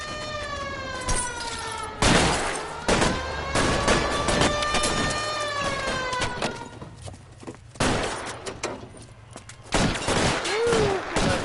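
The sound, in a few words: shotgun gunfire in the video game L.A. Noire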